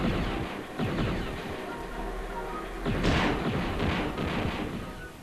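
Repeated blaster fire from the Star Wars Shadows of the Empire video game blasts in a dense stream of sharp shots and booms over a continuous rumbling game soundscape.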